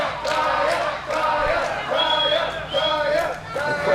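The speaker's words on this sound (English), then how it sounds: "They seem to be cheering on Taya a bit harder." A wrestling crowd at a women's match cheers and roars steadily throughout, a dense wash of voices with rising swells and no single speaker standing out.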